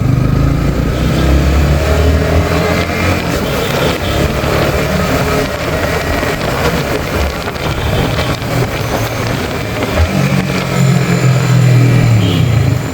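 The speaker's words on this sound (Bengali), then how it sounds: "এখন আমি গিয়ার উঠাবো, দেখেন ক্লাচ ছাড়া।" A Yamaha MT-15 motorcycle shifts up through the gears without using the clutch while riding, its engine loud and continuous under steady wind rush, with brief dips and rises in tone as each gear engages.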